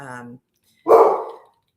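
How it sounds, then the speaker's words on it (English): A dog gives a single loud, sharp bark close by, following a brief stretch of voice. "of course, the dog wants to bark"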